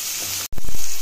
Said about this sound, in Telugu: ఇది బాగా వేయించుకోవాలి.